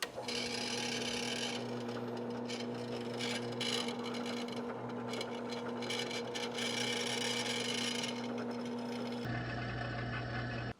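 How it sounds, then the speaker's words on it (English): A steady, loud mechanical whine of an electric drill boring a hole in metal runs nearly continuously with grinding, rasping texture, then shifts to a lower hum near the end. "we'll go over to the drill and we'll drill us a hole in there"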